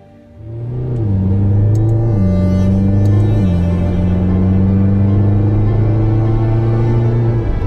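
A McLaren GT sports car on an open road, its engine rising into a steady, loud drone with audible gear-shift steps in pitch, heard from close inside or alongside the car with no talk.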